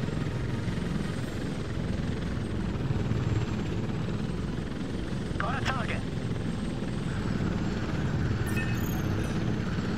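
An Apache helicopter in the video game Apache Air Assault drones steadily, a constant rotor and engine roar filling the whole stretch with a faint mechanical chirp midway, while someone talks over it.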